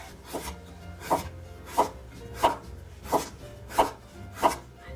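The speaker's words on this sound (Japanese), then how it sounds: "きゅうりも同じで千切りにしていきます。" Kitchen knife julienning a cucumber on a cutting board, seven steady chopping strokes at an even, unhurried rhythm, close and clear, with no voices.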